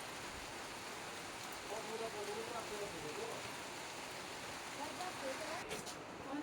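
Steady rain falls during an outdoor ride in Nepal, a dense even hiss filling the whole stretch with no break, close and constant, with faint voices underneath.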